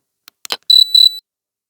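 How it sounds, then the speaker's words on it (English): A Noisy Cricket prank toy circuit board gives a single sharp electronic chirp, a short pair of high tones after a few faint clicks, close and clear against silence. "There's a single chirp."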